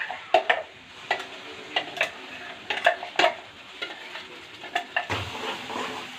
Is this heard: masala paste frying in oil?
yes